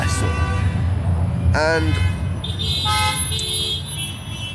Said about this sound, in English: there's a lot of beeping going on here